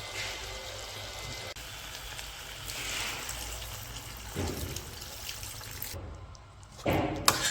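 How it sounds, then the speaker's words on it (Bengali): Broth is poured into a curry cooking in a village kitchen, making a soft watery pouring sound with a few splashes, then a louder splash and clatter toward the end. "এই পাশে হচ্ছে তরকারিতে ঝোল দিয়ে দিলাম"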